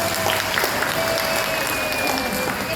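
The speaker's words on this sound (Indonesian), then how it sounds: "Aplaus dulu dong." Steady applause from the seated participants at the closing of a school digitalisation training session, a continuous clapping texture at moderate distance, with a voice faintly present beneath.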